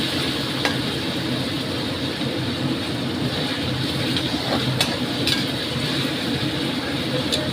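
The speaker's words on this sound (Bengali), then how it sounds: "অল্প অল্প করে ভাজবো, একবারে না।" Bitter gourd frying in oil, a steady close sizzle with occasional light clinks of a utensil against the pan, continuous throughout.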